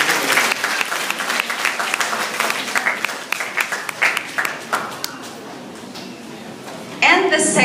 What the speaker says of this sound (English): I think Roger deserves a round of applause.